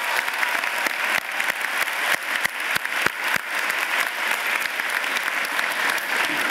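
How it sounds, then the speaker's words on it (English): Large graduation crowd applauding at a community college commencement, a dense steady wash of clapping with a few sharper individual claps standing out near the front. "One more round of applause for Diana"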